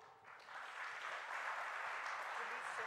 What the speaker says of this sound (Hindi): मेरे साथ तालियां हो जाए